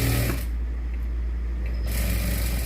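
A sewing machine double-stitches the lining of a blouse with a steady, close mechanical whirr that runs continuously, briefly easing in the middle before picking back up.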